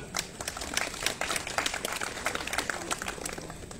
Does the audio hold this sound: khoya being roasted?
no